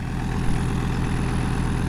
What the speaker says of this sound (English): getting the Kubota M4700 tractor out